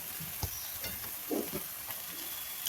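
Dill greens (shepu bhaji) being stirred in a frying pan give a faint, steady sizzle broken by a few soft scrapes and knocks, close and quiet, with no talk.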